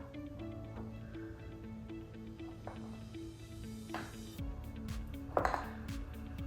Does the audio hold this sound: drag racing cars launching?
no